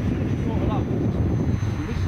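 A model aeroplane flies overhead at a club flying event, its engine a steady continuous drone at moderate loudness, with people talking nearby.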